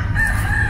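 Rooster crowing on the grounds of an old hacienda in Venezuela, a brief, loud, sustained call heard alone at close range.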